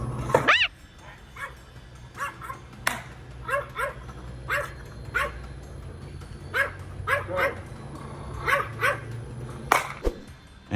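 A dog barks at a black bear in repeated sharp barks and yips, spaced out by short pauses, loud and close over a low background hum.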